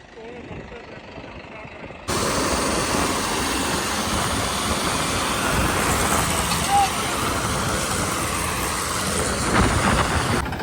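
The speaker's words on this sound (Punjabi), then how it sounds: "ਜ਼ੋਰ ਬਹੁਤ ਮਾਰਿਆ ਬਾਈ ਟਰੈਕਟਰਾਂ ਨੇ" Several tractors strain to haul a heavy trolley, producing a loud, steady engine roar that jumps up sharply after a quieter start and holds, with voices talking over it.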